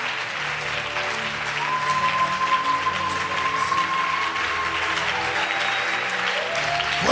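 A church congregation applauding in praise, sustained dense clapping from many hands throughout, with some voices and a faint tone underneath, fairly loud and close.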